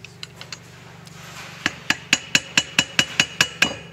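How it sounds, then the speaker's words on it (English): A hammer strikes a flathead screwdriver to pry the end bell off an Elektrim Motors X1 Series electric motor. A few light taps come first, then about ten sharp, evenly spaced metallic blows, close and loud, with no talk. "a hammer and a flathead screwdriver."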